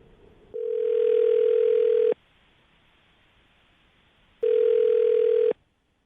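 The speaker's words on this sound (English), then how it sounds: "I'm going to dial the phone number right now" A telephone line rings out while a call is placed to a listener during a radio show segment: two long, steady electronic ring tones separated by a pause, clear and fairly loud, with no talking.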